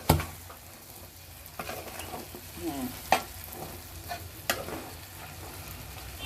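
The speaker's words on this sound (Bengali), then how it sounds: "ফটফট করে আওয়াজ আসতেছে" Cow tripe frying in hot oil in a pot, giving a steady low sizzle with scattered sharp crackles and pops and a few stirring scrapes; one brief word is spoken.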